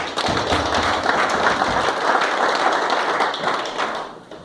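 An audience at a Congolese community general assembly claps together, a lively mix of hand claps and thumps that holds steady, then tapers off at the end.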